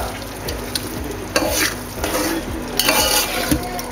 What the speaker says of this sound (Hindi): तमाम मसालों को हम मिक्स कर लेंगे ताकि ये मसाले इसमें अच्छी तरह से पेनिट्रेट हो जाए